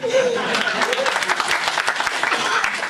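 Applause rings out from an audience for a councilwoman at a Black History Month celebration, dense steady clapping filling the room with some chuckles and voices mixed in.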